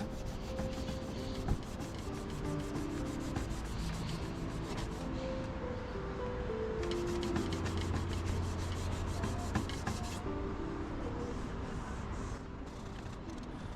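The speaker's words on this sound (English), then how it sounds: "it was time to sand it smooth" Hand sanding dried wood filler on a dresser with steady rhythmic back-and-forth scraping strokes, close and continuous, with a faint low hum in the background.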